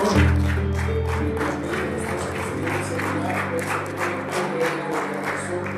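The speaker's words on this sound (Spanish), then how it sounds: "Dale un fuerte aplauso al Señor" A church congregation gives a strong round of applause during a sermon, with rhythmic clapping over sustained organ or keyboard tones.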